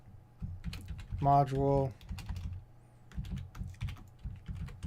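Keys clatter in quick, uneven bursts on a computer keyboard, close and fairly quiet, with a single short spoken word in the middle.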